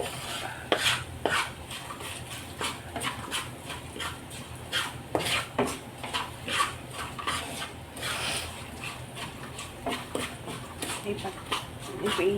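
Green chilli curry being stirred in a pan, a string of rhythmic spoon scrapes and clinks against the metal, fairly quiet and close, with faint background noise.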